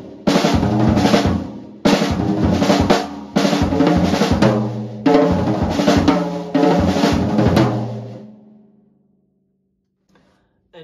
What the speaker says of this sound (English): Now you can take this phrase and orchestrate it on the drums.